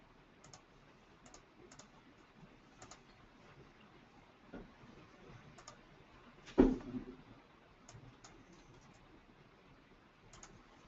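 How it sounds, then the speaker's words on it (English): Keys on a computer keyboard tap in sparse, faint clicks and short bursts, with one louder knock partway through, in a quiet room. "So we're just typing in the different rotations"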